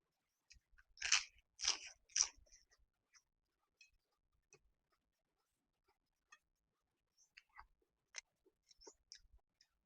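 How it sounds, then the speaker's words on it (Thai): Crisp fresh vegetables crunched in close, quiet bites, a few loud crunches at first and then softer, scattered chewing clicks and crackles with pauses, no talking. "ผักกรอบเลย"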